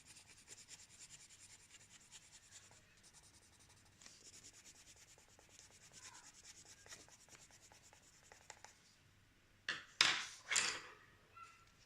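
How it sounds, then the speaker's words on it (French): Coloured pencil working over paper with a white pencil: soft, steady scratchy rubbing strokes, quiet and close, ending in a few louder, rougher scrapes. "Et je relâche la pression en remontant. Et je repasse avec mon blanc."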